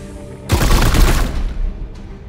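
Gunfire in Warhammer 40k Chaos Gate Daemonhunters, a loud sudden burst of rapid shots that rings on and fades over about a second after a quiet start.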